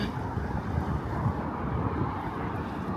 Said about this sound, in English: There's a lot of wind coming in.